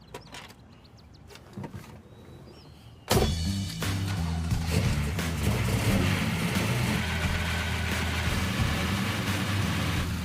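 A car engine cranks and catches after a few seconds of quiet rattling, then settles into a loud, steady idle that keeps running.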